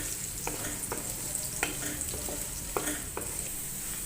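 Finely chopped onions with whole garlic and ginger sizzle steadily in hot oil in a pan, a continuous close crackling hiss broken by a few light stirring scrapes, with no voices.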